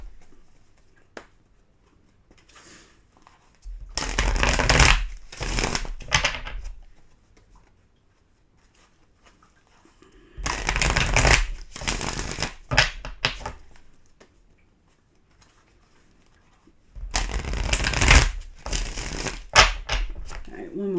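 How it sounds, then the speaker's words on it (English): Tarot cards being shuffled in three separate bursts of crisp riffling and flapping, each a couple of seconds long and close by, with quiet gaps between them. "One more shuffle for you"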